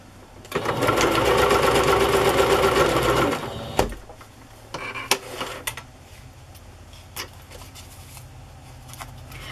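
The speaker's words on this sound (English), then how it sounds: "sew it down." A sewing machine stitches fabric and lace onto a paper tag in a steady, loud mechanical whir for about three seconds, then stops, leaving soft handling clicks and taps.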